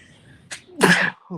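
One sharp, close sneeze bursts out after a faint intake of breath, followed by a short soft vocal sound, in a quiet podcast setting.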